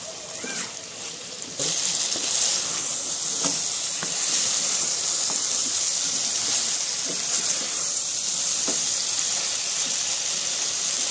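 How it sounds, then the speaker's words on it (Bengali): Water pours into a pan of sizzling soybean curry, and a splashing gush rises suddenly and stays loud and constant under the frying hiss. "মিনিট চারেক কষার পরে এবার আমরা জল অ্যাড করে দেবো।"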